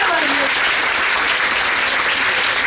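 Loud, dense applause fills a workshop hall on empowering women in media in Punjab, steady clapping from a sizable audience throughout with no pauses.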